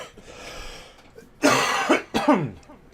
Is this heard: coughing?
yes